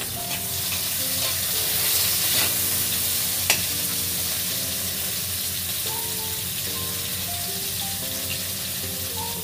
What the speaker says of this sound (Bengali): এবার উচ্ছেগুলো ভেজে নেব লাল করে।